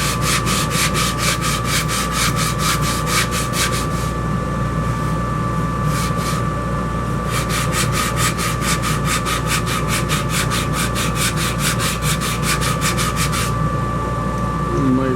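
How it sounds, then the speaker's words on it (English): Rhythmic back-and-forth scraping of hand sanding on a turned camphor wood hollow form, steady strokes with a brief pause partway through, close and loud. "Make sure I take out all the little sanding marks."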